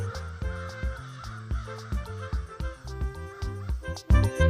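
Cartoon crows caw over lively animated background music, their calls mixed with rhythmic notes and a louder burst near the end.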